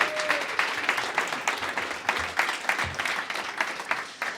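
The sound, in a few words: audience applause at showcase event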